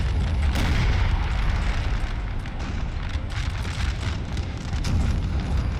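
Artillery barrages in Napoleon Total War 3 battle, a dense rumbling wash of distant cannon booms overlapping into a continuous roar, loud and sustained with repeated heavier thumps.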